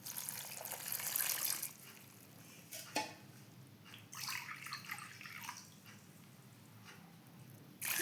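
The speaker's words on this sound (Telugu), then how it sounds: "ఇప్పుడు వాటర్ వేసుకున్నాము." Water is poured into a cooking pot holding onions and coriander for a village-style gongura pulihora, giving soft splashes and trickling drips in short bursts with quiet pauses between.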